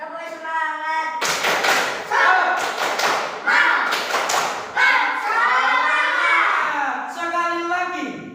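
Third-grade children in a classroom doing the tepuk semangat chant, with bursts of rhythmic group clapping and thumps interleaved with their loud chanted voices, close and lively.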